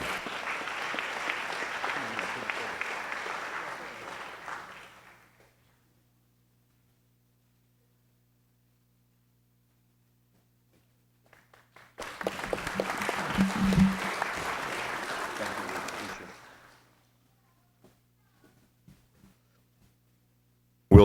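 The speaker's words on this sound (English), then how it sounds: "give him a round of applause" Audience applause at a police honor ceremony: a sustained burst of clapping that fades out, then a silent gap, then a second round of applause that also tapers off.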